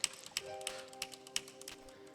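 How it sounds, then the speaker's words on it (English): Loud computer keyboard typing during a speedrun of the game Momodora: Reverie Under the Moonlight, a quick run of irregular clicky taps over steady game music tones. "I hope you can hear my keyboard."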